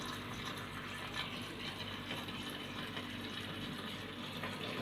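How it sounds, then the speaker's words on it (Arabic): Tap water runs steadily over molokhia leaves being washed in a kitchen sink, a continuous close gushing hiss with faint rustling and splashing, no one speaking. "انا بفضل يعني كده في غسيل الملوخيه"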